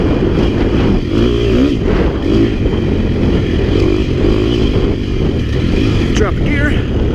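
A KTM 250 XC-F dirt bike ridden through sagebrush, its four-stroke engine droning loud and steady with rising and falling revs as gears change, wind noise over the top and a rider's voice faintly underneath.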